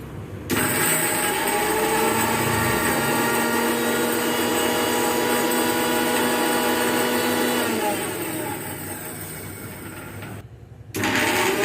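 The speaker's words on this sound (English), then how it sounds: "These dried leaves are taken into a jar and grind it well until it becomes fine powder" Dried henna leaves are ground into fine powder in a jar on a mixer grinder, a loud, steady motor whir that runs for about ten seconds, dips briefly and then starts again.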